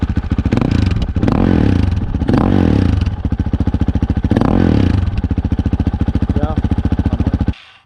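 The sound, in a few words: Honda CRF450L motorcycle with Yoshimura RS4 exhaust revving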